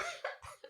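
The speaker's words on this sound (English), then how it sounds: "That was a legitimate cough." A short, quiet cough, a few quick bursts in under a second, close by.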